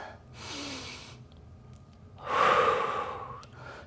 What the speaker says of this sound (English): Exhale, lift.